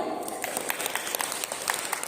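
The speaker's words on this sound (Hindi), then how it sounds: "ईश्वर के लिए जोर से ताली बजाइए" A church congregation claps together in steady, dense applause that stays even and moderately loud throughout the short stretch.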